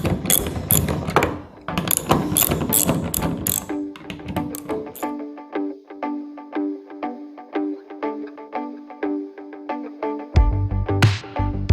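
Ratchet wrench with an 8mm socket turning out the fuel door bolts on a Ford F150, a rapid run of dense mechanical clicks followed by slower, steady ratcheting strokes, close and loud with no talk.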